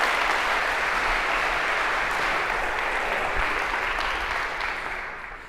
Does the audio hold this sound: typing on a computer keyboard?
no